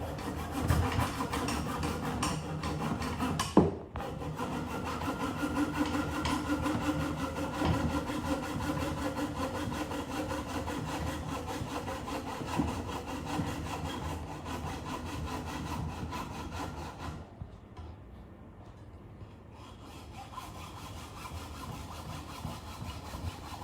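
An INGCO power saw cuts through PP plastic material in a loud, steady, continuous run that holds for about seventeen seconds before easing off, with no talking.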